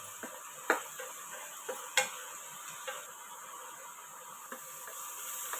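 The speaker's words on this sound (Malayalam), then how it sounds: "നല്ലതുപോലെ തന്നെ വഴറ്റി കൊടുക്കാമേ ഒറ്റ രീതിയിൽ തന്നെ കൈയെടുക്കാതെ തന്നെ വഴറ്റിയെടുക്കണേ" Snake gourd thoran sautéing in a pan, with light scraping stir strokes ticking at irregular intervals over a steady faint sizzle and hiss, no voices.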